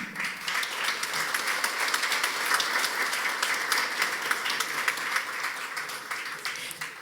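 An audience at a business forum in Ecuador claps to welcome a speaker to the stage, a sustained wash of many hands with a few sharper individual claps, fading slightly at the close.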